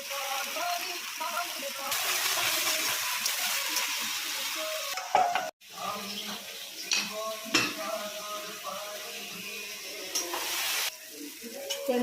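Mutton frying in a pan for a home-made curry, with a steady sizzle and stirring scrapes running throughout and a brief sharp break midway; a voice talks over the cooking.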